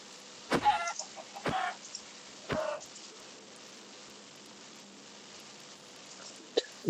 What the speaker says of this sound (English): I'm killing that chicken.